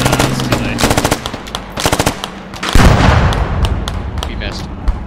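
Rapid automatic gunfire in the military shooter game Squad, loud bursts of rattling shots followed by heavier booming impacts and scattered single shots.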